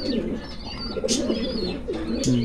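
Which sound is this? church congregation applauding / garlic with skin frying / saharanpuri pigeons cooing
saharanpuri pigeons cooing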